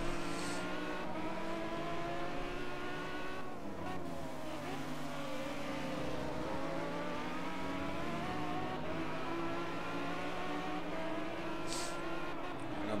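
GT3 race car engines in Project Cars at Barcelona rise and fall through the gears as the cars accelerate out of corners, several cars close together, with a German voice commentating over them.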